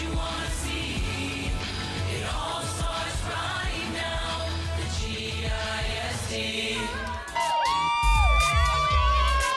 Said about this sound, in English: Look at the Rowlett sideline cheering on their team.